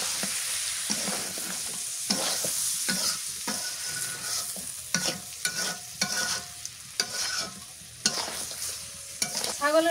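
Goat meat stir-fried dry in a pan over a village clay stove: repeated scraping stirs over a steady sizzle, close and fairly loud, ending in a brief high squeal.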